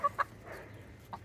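A few hens give soft, short clucks close by, two quick notes then a fainter one after a pause, over quiet background.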